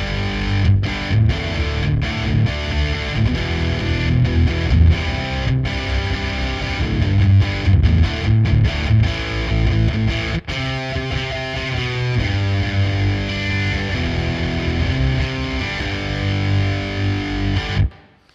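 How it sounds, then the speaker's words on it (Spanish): An electric guitar plays through a Stak Fx Hunab Ku high-gain distortion pedal with the gain fully up, producing a thick, saturated tone. Riffs and chugging palm-muted notes run loud and continuous for about eighteen seconds before cutting off. "ahí es con toda la distorsión"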